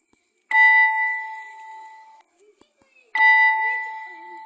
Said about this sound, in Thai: เนี่ยเป็นเสียงระฆังเนี่ยเราก็สามารถเลือกได้เห็นไหม